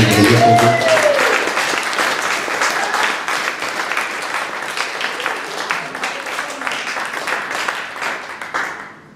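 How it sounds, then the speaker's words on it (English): A comedy show audience in Bolton breaks into loud, dense applause that starts over a brief musical tone, carries on strongly for several seconds, and then tapers off near the end, with no voices. "So let's have a round of applause for them."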